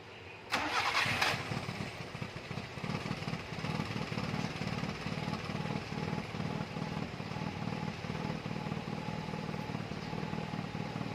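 A vehicle engine cranks briefly and fires up right after a new battery was fitted, then settles into a steady, fairly loud idle with no talking over it.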